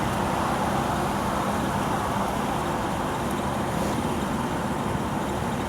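A 1961 Chevrolet Corvette C1 cruises in fourth gear at about 1800 rpm and 43 mph, a steady dense roar of engine, road and wind noise from inside the car, with no speech.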